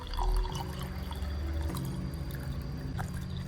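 Water infused with dragon fruit peel pours into a cup, a close, continuous splashing trickle that begins with a louder gush and then settles into a steady, softer flow.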